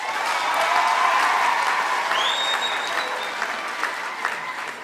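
A graduation audience in Windhoek gives steady applause for Dean Dr. Jacob Nyambe, a broad wash of clapping from a sizeable crowd that holds for several seconds, with a faint brief whistle partway through.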